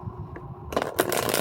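Wizard Companion Tarot cards shuffled close to the microphone, quiet at first, then a burst of papery riffling and slapping in the final second.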